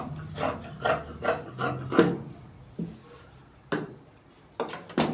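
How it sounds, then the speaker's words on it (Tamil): Cloth for a full shirt is cut by a tailor, producing a close series of rasping, swishing strokes in an uneven rhythm, fast at first and then more spaced out, with no talking. "பெண்டு பண்ணிவிட்டு இப்போ வெட்ட போகிறேன்."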